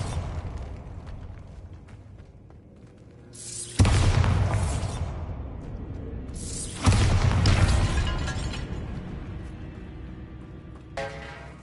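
Two heavy blasts from a Bombarda spell in Hogwarts Legacy, set in a tomb, each a sudden loud boom with crackling debris that rumbles and decays over several seconds, followed by a short shimmering magical chime.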